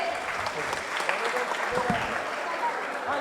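Clapping from the audience at an award ceremony during a community gathering, sustained and fairly dense throughout, with a voice speaking over it.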